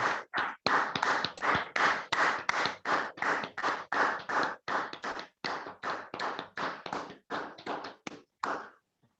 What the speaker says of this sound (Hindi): थोड़ा सा तालियों का बौछार और चाहिए